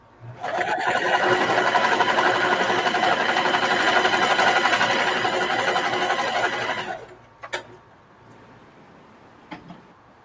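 A sewing machine stitches a reversible bucket hat in one continuous loud, rapid run of about seven seconds, then stops, followed by a few light clicks and handling sounds.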